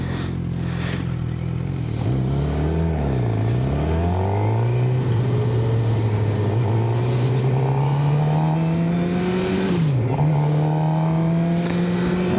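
A Suzuki GSX-R 600 sport motorcycle rides on the highway, its engine droning loud and steady with rising pitch as it accelerates through gears, brief dips at shifts, and wind rush throughout.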